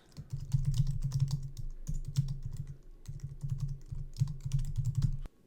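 Rapid keystrokes on a computer keyboard, close and fairly quiet, come in several bursts separated by brief pauses while a new password is generated and notes are entered.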